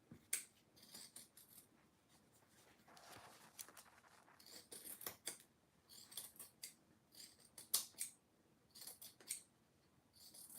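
Sewing scissors trimming fabric around an in-the-hoop embroidered zipper bag, a quiet series of close, crisp snips and blade rasps in an irregular rhythm, with no voice over it.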